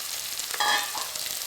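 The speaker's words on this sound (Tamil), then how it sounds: "அதில் வந்து நம்ம உடச்சி வச்ச முட்டையை ஊற்றிக்கணுங்க." Beaten eggs poured into hot pan of sizzling ginger garlic paste with turmeric, a steady close frying hiss that flares briefly louder as the egg hits, then settles back to a gentle sizzle.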